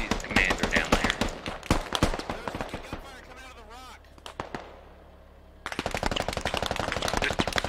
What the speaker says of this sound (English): gunfire coming out of the rock